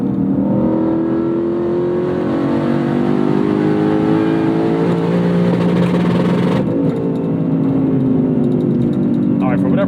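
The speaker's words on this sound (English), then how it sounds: "I love the way it bounces off the rev limiter" A track-prepped Lexus IS F sport sedan holds high revs, its engine droning loud and close against the rev limiter, then the note drops away as a voice talks over it.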